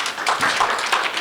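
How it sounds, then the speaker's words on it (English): A brief burst of scattered hand clapping from an audience at a hypnosis stage show, fairly soft and uneven, lasting only a moment. "Give them a nice round of applause"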